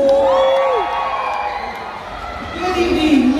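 Pageant crowd at the Busig-On Festival cheering and shouting in a loud, sustained roar with whoops, rising again near the end, while an amplified voice speaks over it at the start.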